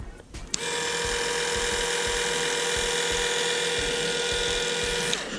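An Oster Volt or Octane cordless hair clipper switches on after a click and runs with a loud, steady, high-pitched whine held close for several seconds before stopping.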